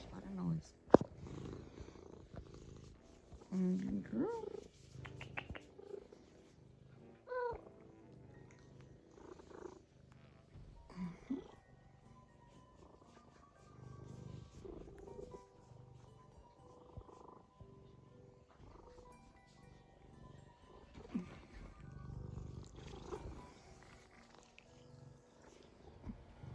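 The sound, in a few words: cat purring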